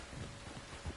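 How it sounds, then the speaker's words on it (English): Steady rain falls in Red Dead Redemption 2, a dense continuous hiss with low rumbling swells, no voices over it. "You were right about the damn rain."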